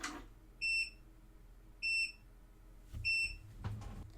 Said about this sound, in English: Mine was beeping to let me know that it is in fact connected